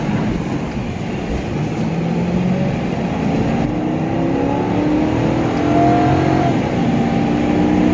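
Steady, loud road and engine drone from inside a 2011 Ford Crown Victoria Police Interceptor cruising on a highway, with a low rumble and tire noise holding throughout.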